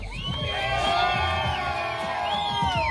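A crowd at a Cadillac car festival in California cheers and whoops loudly for a contestant, with sustained shouts and hollers over a dense wash of voices.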